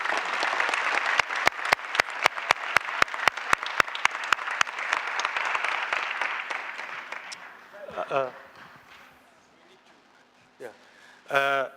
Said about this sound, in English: So please also a warm round of applause